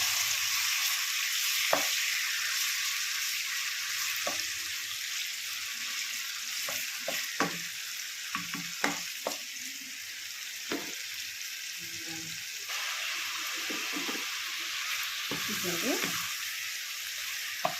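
Raw prawns fry in hot oil with a steady, loud broadband sizzle, broken by occasional clinks and scrapes of a spatula stirring the pan; no one speaks.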